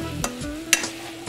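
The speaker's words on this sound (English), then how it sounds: "saute these onions until they get" Chopped onion sautés in rendered bacon fat for baked beans, giving off a soft, steady sizzle with a couple of light stirring clicks over a short stretch.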